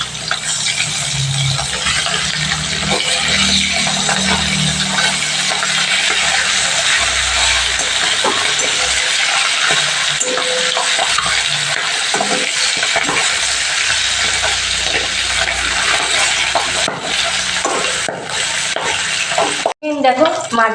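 Pabda fish frying in hot oil in a pan, giving a loud, unbroken sizzle and hiss close up, with occasional clatters as the pieces are handled.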